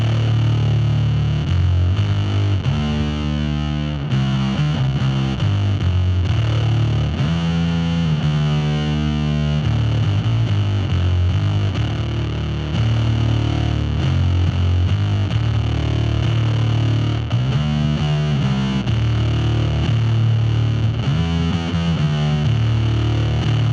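Bass guitar plays a melodic line through an expensive fuzz pedal with delay and reverb on, producing a loud, thick, distorted tone with trailing echoes and wash sustained throughout, no voices.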